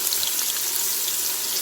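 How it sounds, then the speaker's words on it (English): Finely chopped onions sizzle in a very hot Instant Pot on saute mode, giving a steady, loud, close hiss with no pauses. "Look at that sizzle."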